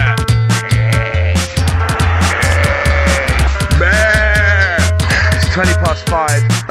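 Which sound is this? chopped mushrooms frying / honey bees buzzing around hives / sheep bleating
sheep bleating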